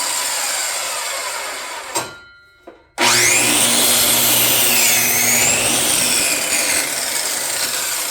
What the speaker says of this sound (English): got my chop saw out